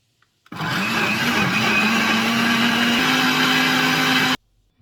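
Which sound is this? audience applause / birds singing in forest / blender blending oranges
blender blending oranges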